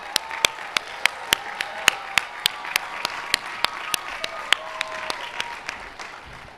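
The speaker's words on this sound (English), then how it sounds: "the graduates can give you a great round of applause" At a university business administration commencement ceremony, an audience applauds graduates. Sharp, separate claps ring out at a steady, fairly even pace over a soft crowd background.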